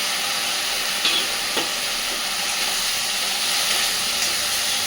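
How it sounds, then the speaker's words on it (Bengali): Fried pointed gourd pieces go into a spice masala frying in oil, giving a steady close sizzle and hiss with a couple of soft knocks as they land. "এইবার ভেজে রাখা পটলগুলো আমি এর মধ্যে দিয়ে দেব"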